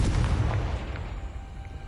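A Confringo blasting spell bursts in the video game Hogwarts Legacy: one loud, booming explosion at the start that rumbles and slowly fades away.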